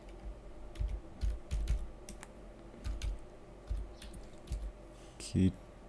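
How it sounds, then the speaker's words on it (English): Code is typed on a computer keyboard in irregular bursts of close, soft key clicks, with a louder clack near the end. "I'm going to just type this code"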